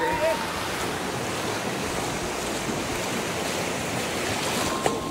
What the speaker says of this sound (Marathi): हो लाटा खवळल्या आहेत बाबा